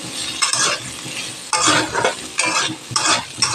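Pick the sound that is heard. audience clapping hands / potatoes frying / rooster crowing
potatoes frying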